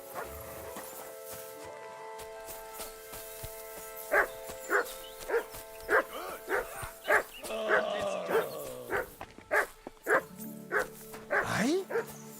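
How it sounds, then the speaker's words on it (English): A dog in Kingdom Come: Deliverance 2 barks repeatedly in loud, sharp, unevenly spaced barks over a steady musical game background, growing busier toward the end. "Sit and bark."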